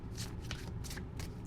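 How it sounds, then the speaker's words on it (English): A deck of cards is shuffled by hand during a tarot reading, several quick riffling bursts close up with no talk. "It looks like the ancestors want me to stop shuffling there."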